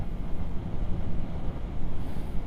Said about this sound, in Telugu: దీనమ్మ గాలి మొత్తం వెనకకి నెట్టేస్తుంది ఇట్లా